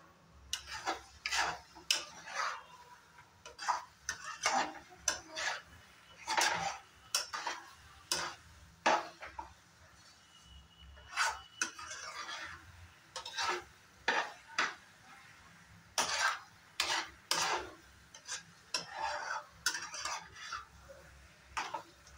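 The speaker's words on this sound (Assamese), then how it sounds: "মছলাখিনি মিলাই ল'লোঁ।" Spices stirred and mixed in a pan for pickle, a spoon scraping and clattering against the metal in repeated brisk strokes, fairly close and steady with faint sizzling beneath.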